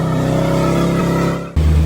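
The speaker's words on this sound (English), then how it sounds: "Just came out to fire the crew cab up," Crew cab pickup truck at a junkyard, its engine running with a steady idle rattle that fades briefly before catching and roaring back louder, close and without talk.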